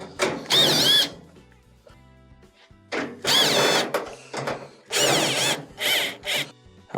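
Power drill backing out 1/4 inch screws from the top of a GE dryer, several close, loud whirring bursts of varying length separated by short pauses.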